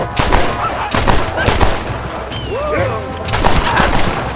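Repeated gunshots in Red Dead Redemption, loud close reports firing in an irregular rhythm with booming echoes, with shouted voices briefly heard between shots.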